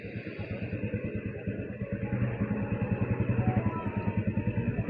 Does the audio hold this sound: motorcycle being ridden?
yes